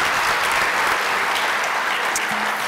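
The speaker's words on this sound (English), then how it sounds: "Give these guys a big round of applause." An audience at a high school honors ceremony applauds, a dense, steady wash of clapping from a large crowd that holds at full strength through the whole stretch.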